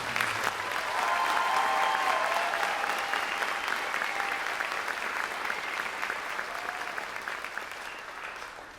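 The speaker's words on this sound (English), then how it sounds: "One more big round of applause for all of our seniors." Audience applause for graduating seniors at a high school spring band concert, a full, steady round of clapping from a large crowd that stays loud for most of its length before gradually tapering off.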